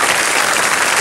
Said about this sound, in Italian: Wow, un bel applauso